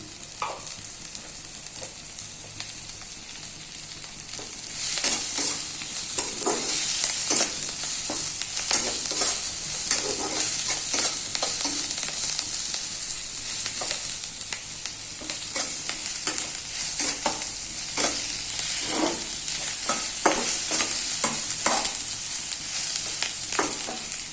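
A spicy Chinese-style dish frying in a pan, stirred repeatedly with a utensil: a constant close sizzle under rhythmic scraping strokes that run steadily throughout.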